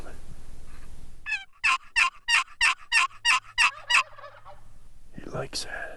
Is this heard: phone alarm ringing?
no